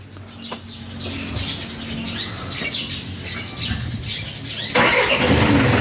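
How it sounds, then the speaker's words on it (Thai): An engine cranks and turns over, then catches into a rough idle near the listener, with birds chirping faintly in the background. "เอาสตาร์ทให้ฟังเสียงนะครับ"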